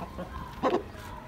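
Aseel roosters on a farm give a brief burst of clucking, a couple of close, moderately loud calls rising over a low background hum.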